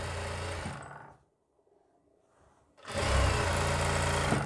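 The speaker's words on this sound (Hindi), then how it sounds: "सिलाई लगाते हुए आएंगे हम ऊपर" An electric sewing machine runs in two loud bursts of steady stitching on a folded kurti slit, separated by a quiet pause of about two seconds.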